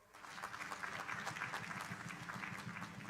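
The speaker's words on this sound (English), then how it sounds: "let's give them a round of applause" An audience at a university graduation ceremony applauds, a steady, fairly faint patter of many hands heard from a distance, with a low murmur of the crowd underneath.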